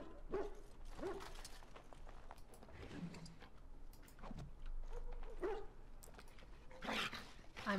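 Dogs barking in the Dragon Age: Origins video game, sharp yips and barks scattered across a busy game soundscape with occasional voices and effects over steady background ambience.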